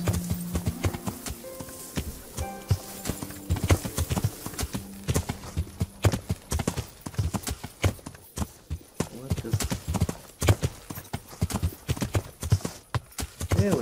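Horse hooves clip-clop at a steady walking rhythm in the medieval video game Kingdom Come: Deliverance, loud and close throughout, with occasional speech over them.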